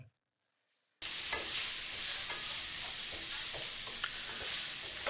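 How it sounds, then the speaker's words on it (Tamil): Tomatoes sautéing in a pan for a village-style egg stir-fry, a loud steady sizzle that starts abruptly after a second of near silence, with faint scrapes of stirring scattered through it. "இப்போ நம்ம தக்காளி வந்து நல்லா வதங்கி வருது"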